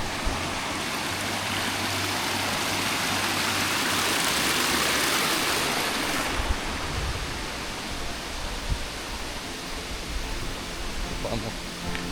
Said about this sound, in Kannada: ಸೊ ಶಾಂತಿ ವಾಟರ್ ಫಾಲ್ಸ್ಗೆ ಹೋಗೋಕ್ಕೆ ಮುಂಚೆನೇ ನಮಗೊಂದು ಚಿಕ್ಕ ವಾಟರ್ ಫಾಲ್ಸ್ ಸಿಗುತ್ತೆ